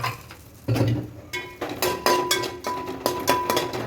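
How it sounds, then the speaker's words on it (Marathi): Coconut roasting in oil in a pan for a Maharashtrian chicken dish: close, irregular clinks and scrapes of a utensil stirring against the pan, each stroke sharp over a faint sizzle. "खोबरं भाजून घ्यायचं त्यामध्ये थोडं तेल घाला"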